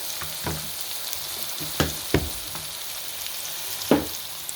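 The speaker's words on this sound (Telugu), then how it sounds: "ఇక ఆనియన్స్ కొంచెం ఫ్రై అవుతాము" Onions fry in a pan for a village-style dried fish and taro curry, with a steady broadband sizzle and several sharp scrape-and-stir knocks at irregular intervals, close and moderately loud, with no voices.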